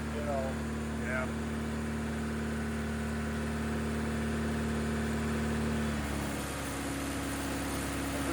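A Honda D16 turbo engine with a cracked exhaust manifold runs steadily at idle, giving a constant droning hum with a faint shift in tone near the end, and no voices over it.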